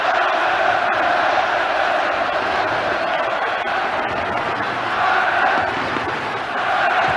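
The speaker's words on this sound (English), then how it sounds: "The crowd get behind England at last." Football stadium crowd at an England versus Ireland Euro 1992 qualifier chanting and roaring in support of England, a loud, steady wall of massed voices with slight swells, distant and sustained throughout.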